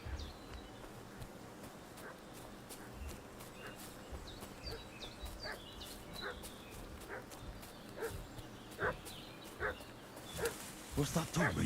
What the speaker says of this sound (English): What's that dog making such a fuss about?